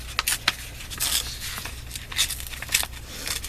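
Paper scraps ripped by hand, several short tearing rasps and crinkles in quick succession, close and fairly loud, with no talk.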